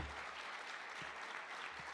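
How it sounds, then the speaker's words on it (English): Audience applause for Spanish football chief Rubiales, a steady wash of clapping from a crowd, moderately distant and even throughout. "And you see the applause."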